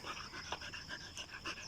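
A homeless stray dog pants during a walk, giving quick, rhythmic, breathy puffs at close range, fairly faint and steady throughout.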